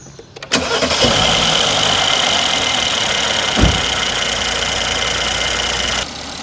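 A Mercedes E400 engine cranks briefly, catches and starts, then settles into a steady idle with one louder knock partway through.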